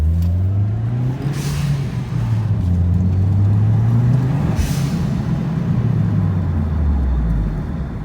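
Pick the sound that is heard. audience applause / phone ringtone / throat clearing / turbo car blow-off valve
turbo car blow-off valve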